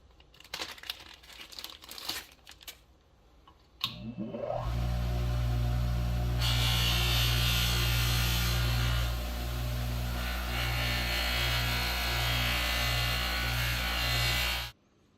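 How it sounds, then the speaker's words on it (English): A bench polishing wheel buffing a chrome pipe with coarse compound: some handling noise and crinkling, then the motor spins up into a loud, steady whine and hum that holds for about ten seconds before cutting off. "we're going to put it on the polish wheel next and see if we can shine it up"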